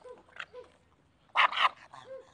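A golden retriever and other dogs let out a few short barks and yips, with one louder burst of barking in the middle and quieter whimpering around it.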